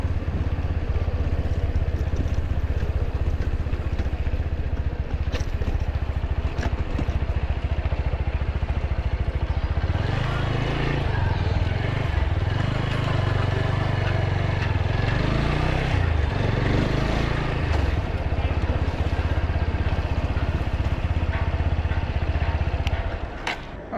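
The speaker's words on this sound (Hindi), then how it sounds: "फोर्थ गियर पर जब बाइक चला रहे हैं 30 के ऊपर स्पीड है, तो ये नॉर्मल आवाज़ है हमारा" A motorcycle cruising in fourth gear above 30 speed gives a steady, continuous engine drone, close and even throughout, with a thicker low rumble swelling through the middle stretch.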